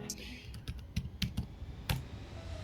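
Keys clack on a computer keyboard in a short, uneven burst of typing, close and moderately loud, with faint background hum.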